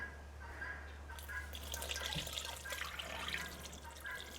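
Water poured into a jar of sourdough starter, a soft liquid trickle and splash that swells after a quiet start and runs steadily near the microphone.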